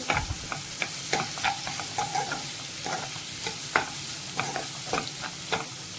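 Half a spoon of turmeric with salt fries in hot oil for a cucumber and drumstick curry, a constant sizzle under rapid, repeated ladle scrapes and taps against the pan, close up.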